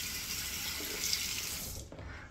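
Water runs from a tap into a sink while a safety razor is rinsed between passes, a steady close hiss that thins out near the end.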